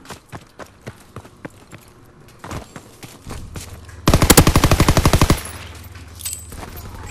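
Gunfire in the Call of Duty: World War 2 video game: scattered single shots and footsteps build into a loud, rapid burst of automatic fire lasting about a second, then trailing sporadic shots.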